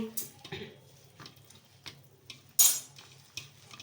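Mashed potato mixed with salt in a bowl for aloo tikki, soft squishy stirring with light clinks of a spoon against the dish, irregular and close, with one sharper knock, and no voices.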